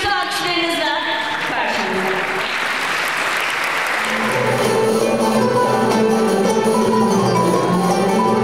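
Audience applause welcoming a singer on stage, loud sustained clapping from a large crowd that swells after a few seconds while music begins underneath.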